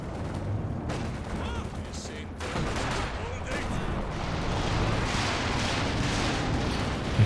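A Walking Stuka rocket artillery barrage strikes in Company of Heroes 2, with a sustained dense rumble of rocket impacts and blasts rolling on for several seconds, and someone talking faintly under it.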